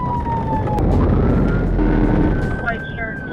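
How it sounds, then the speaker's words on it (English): A police car siren wails through a high-speed pursuit of a vehicle crossing into oncoming lanes, rising and falling steadily and loud over heavy road rumble and engine roar, close by and continuous. "I activated my lights and sirens"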